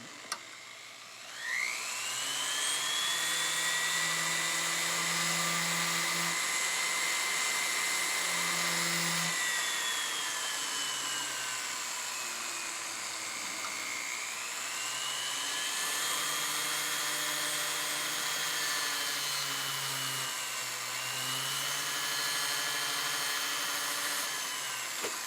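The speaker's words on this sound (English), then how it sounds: "just use a abrasive wheel, and I'm going to remove the oxide from that region" An abrasive wheel grinds oxide off a piece of anodized niobium, a steady high-pitched whine with shifting pitch that runs nearly unbroken for about twenty-five seconds, close and loud with no talking.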